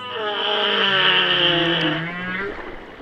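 A single long, sweeping whale song note, tonal and harmonic, swells and fades over about three seconds with no talking.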